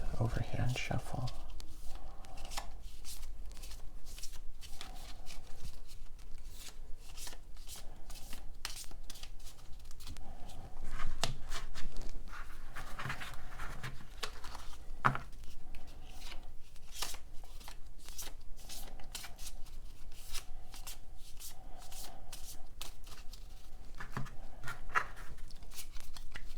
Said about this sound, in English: give it a good overhand shuffle